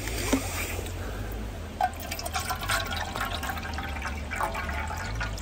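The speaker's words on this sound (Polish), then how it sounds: "I nalejemy wody." Water poured from a kettle into a mug for tea, a steady close trickle with faint splashes running throughout, over a low background hum and no talk.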